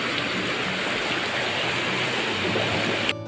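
A rain-swollen village stream rushes in a continuous, loud, even wash of flowing water heard close up, with no voices.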